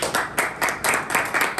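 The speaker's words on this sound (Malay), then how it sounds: "Ya, tepukan kita macam konsert petang ni" A school hall audience at a Form 5 motivational program applauds a teacher, with clapping in quick, evenly pulsing waves that stay close and fairly loud throughout.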